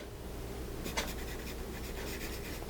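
A Skilcraft No. 1 woodcase pencil scratches across paper in short, dry strokes, close up and fairly soft, with a faint background hiss.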